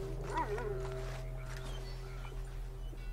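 A dog in Red Dead Redemption 2 gives a few quick yapping whimpers and barks early on, moderately loud, followed by fainter scattered yips over a steady low ambient hum.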